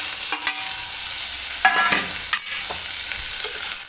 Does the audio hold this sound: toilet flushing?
no